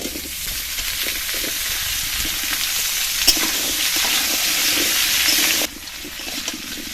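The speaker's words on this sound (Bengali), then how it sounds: "কুমড়ো আর আলুটা মিনিট খানেক মতো ভেজে নিয়েছি" Pumpkin and potato fry with onion in a pan, a steady loud hiss of oil sizzling close up, with light stirring scrapes underneath, the sizzle dropping suddenly in level near the end.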